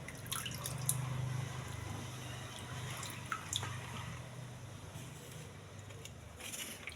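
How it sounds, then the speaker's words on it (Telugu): Freshly washed pomegranate seeds sit in a mesh strainer while rinse water drains away, giving a faint, steady trickle dotted with scattered drips throughout. "ఒక జాలి గిన్నెలో వేసుకుంటే కడిగి వాటర్ అంతా కిందకి దిగిపోతుంది."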